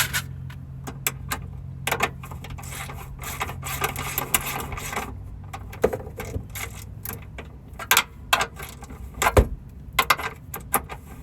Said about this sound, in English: 13 millimeter. It goes in here and bolts to the tray. Get that tightened in.